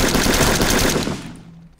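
Rapid automatic gunfire in the stealth video game Sneak Thief, a loud, close burst that quickly fades out.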